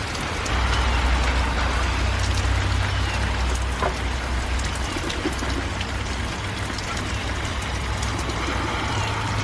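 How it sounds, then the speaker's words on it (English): Steady rain patters on surfaces outdoors in Dallas, Texas, a soft continuous hiss with occasional louder drops and a low rumble of distant traffic underneath. "We are finally getting rain, you guys."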